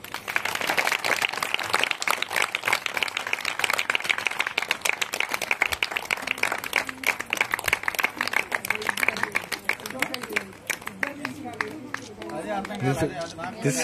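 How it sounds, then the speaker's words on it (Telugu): Guests at a 35th wedding anniversary celebration applaud with dense, steady clapping that carries on for over ten seconds, mixed with crowd chatter and voices, then thins out toward the end as talking takes over. "చప్పట్లు కొడదాం అందరం."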